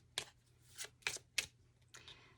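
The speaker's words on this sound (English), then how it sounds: "let's give this deck a quick shuffle" A tarot deck is shuffled in a few quick riffling bursts, four or five crisp papery flutters spaced apart, close and fairly quiet.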